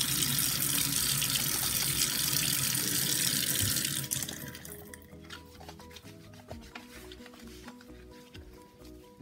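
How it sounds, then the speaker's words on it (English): A leftover scrap of lavender shea soap rinsed under a running sink tap: a loud steady gush of water for about four seconds, then the flow stops, leaving quieter drips, splashes and handling sounds. "I'm gonna take this to the sink for a wash"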